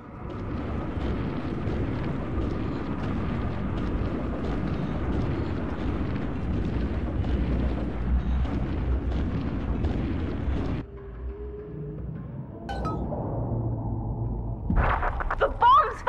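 Bombs going off in BioShock 2 Remastered: a loud, continuous roaring rumble of blasts and debris runs for most of the stretch, then cuts to quieter rumbling with a fresh burst of noise at the very end.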